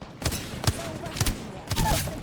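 Several short gunshot bursts in the video game Apex Legends, fired at an opponent at long range, about four quick cracks spaced roughly half a second apart, with faint game background sounds.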